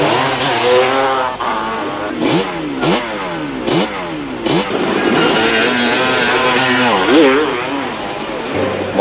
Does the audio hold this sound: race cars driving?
yes